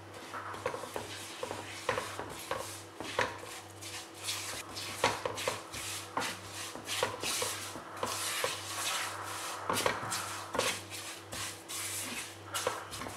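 Ground semolina (rava) stirred in melted ghee in a kadai, a steady series of scraping, rubbing strokes of a spoon against the pan, close and fairly soft, with a low hum underneath and no talk.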